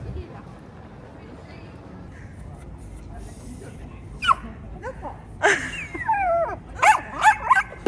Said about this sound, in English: It makes my day when I see the dogs.